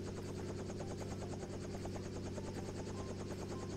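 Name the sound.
tour helicopter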